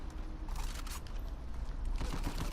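M14 rifle fire in Uncharted 4 multiplayer cracks in a rapid string of sharp gunshots, steady and close, with a denser burst near the end.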